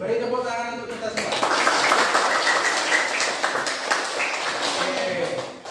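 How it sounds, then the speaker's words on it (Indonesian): Audience clapping at a morning teacher-training class for mathematics, dense and sustained applause with scattered voices over it, fading near the end. "beri tepuk tangan untuk kita semua"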